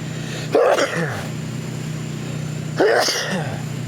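Two sharp sneezes about two seconds apart, close and loud, over a low steady hum.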